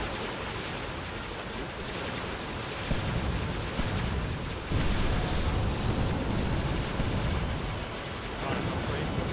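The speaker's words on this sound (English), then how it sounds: "Gun turrets engage targets." Gun turrets firing in the Star Wars: Ascendancy space strategy game, a dense, steady roar of blasts and rumbling fire that swells louder partway through and continues without a break.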